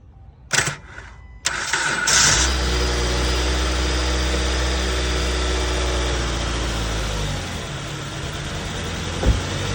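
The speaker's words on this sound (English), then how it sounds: "now I'm gonna try to start it again" In cold weather, a car with a weak battery and alternator cranks in short bursts, then fires and runs at a rough, steady idle close by.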